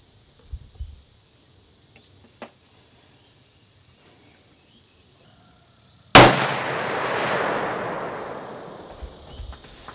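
A single sharp, loud crack from a long range muzzleloader rifle fired outdoors, a long booming rumble rolling away afterward, with insects chirping quietly before and after.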